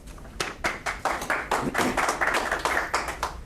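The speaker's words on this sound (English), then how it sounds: "it was a rousing hand of applause" Scattered, uneven hand clapping from a small audience welcoming a speaker at a business forum interview, individual claps distinct and fairly close.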